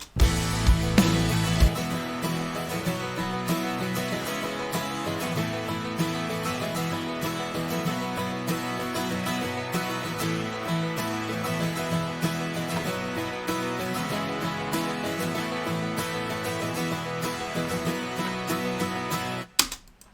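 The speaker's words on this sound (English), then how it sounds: "you have a massive wall of guitars" Dense layered electric guitars in a country production play a full chorus, a thick wall of doubled parts with a low sustained note at the start, loud and steady throughout before a sudden stop near the end.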